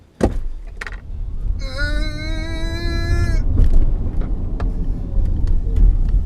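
An Audi e-tron electric car accelerates, its motor giving a high, layered whine that rises for about two seconds over a steady rumble of road and cabin noise, then fades back into the drone.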